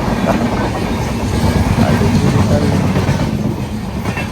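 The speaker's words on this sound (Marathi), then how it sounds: "रेल्वे येणार आहे आता बघा रेल्वे" A train rumbles past loud and close, a steady heavy roar with rattling wheels on the rails throughout.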